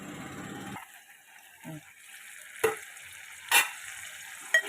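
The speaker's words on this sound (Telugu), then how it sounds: "మూత పెట్టుకొని వేయించుకుందాం, మగ్గించుకుందాం" An egg and drumstick curry fries in oil under a lid. A steady sizzle hisses throughout, broken by a few sharp clinks or pops, all heard close up with no talking.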